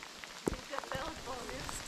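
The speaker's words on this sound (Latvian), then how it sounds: "Sāka krusa krist normāli." Hail falls outdoors in the Latvian countryside: a dense, steady patter of small impacts with a few sharper hits close by, and a voice is partly heard over it.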